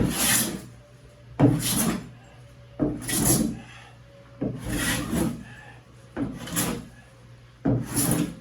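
A hand plane shaves the surface of pumpkin pine floorboards in a log cabin, making six rhythmic rasping strokes of wood on wood about every second and a half, close and fairly loud, with quiet between strokes.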